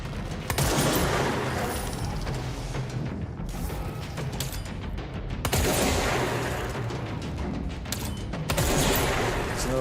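Gunfire during a combat encounter with a sniper in the video game Control, dense and loud with overlapping shots and mechanical clatter, rising in several surges over about ten seconds.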